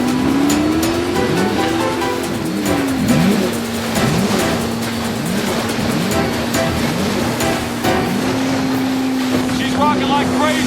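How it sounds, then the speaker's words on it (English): A racing powerboat engine at full throttle, a loud sustained whine shifting in pitch as the hull slams and splashes through waves, with wind buffeting and voices calling out over the din. "Vince, pull the throttles down."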